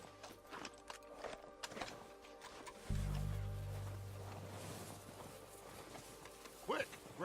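Horse hooves clip-clop at a walking pace in Red Dead Redemption 2, soft and fairly distant, mixed with other in-game ambience and a few louder thumps.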